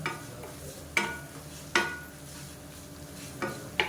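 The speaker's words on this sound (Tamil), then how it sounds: "நான் வந்து கேஸ் அமர்த்திடுறேன் அமர்த்திட்டு அந்த சூட்லேயே வதக்கி விட்டுறேன்" A spatula scrapes and stirs salted coriander chutney ingredients in a kadai as they sauté in leftover heat with the gas switched off, giving a few spaced, quiet scraping strokes over a faint low sizzle, with no voices.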